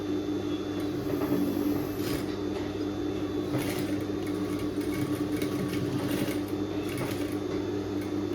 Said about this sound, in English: And then we're just gonna stitch it up.